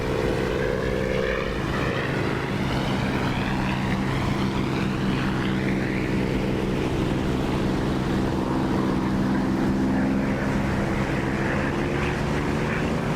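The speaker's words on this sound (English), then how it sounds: "I'm throttling up now to catch this A20" Propeller aircraft engine in the DCS flight simulator game throttling up to full power, a loud continuous droning roar that rises in pitch and intensity, with no talk.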